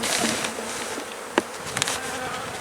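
Honeybees swarm around an opened hive in early spring, a dense, steady buzzing close by with a few sharper zips as single bees fly past.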